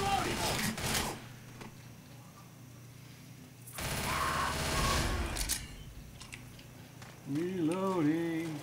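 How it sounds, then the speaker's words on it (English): Rapid bursts of gunfire from weapons in the Left 4 Dead video game, with broadband crackling volleys near the start and a dense stretch in the middle, mixed with other game sounds and voices. "We're shooting left and right here."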